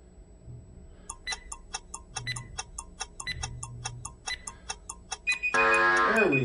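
A workout interval timer ticks steadily, about three ticks per second, close and clear, ending in a loud sustained buzzer tone.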